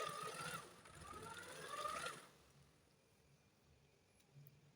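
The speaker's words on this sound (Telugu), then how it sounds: "కొత్తగా టైలరింగ్ నేర్చుకునే వాళ్ళు ఇలా కొద్ది కొద్దిగా పట్టుకుని కుట్టండి." Domestic sewing machine stitching a fall onto a saree, a quick whirring run of stitches for about two seconds that then stops, leaving quiet room tone.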